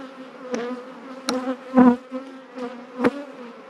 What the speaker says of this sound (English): Bees are thirsty.